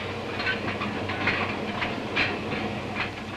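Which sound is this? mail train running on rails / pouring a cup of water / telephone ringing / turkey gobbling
mail train running on rails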